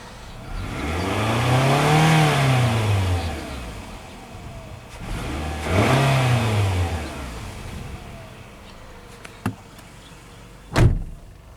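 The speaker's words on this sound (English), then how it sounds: "I don't know why Toyota doesn't put a rev limiter on their engines since they're so noisy." A 2009 Toyota Camry LE with a 2.4L engine revs twice in long rising-and-falling sweeps, loud and close, followed by a couple of sharp knocks like a door or interior rattle.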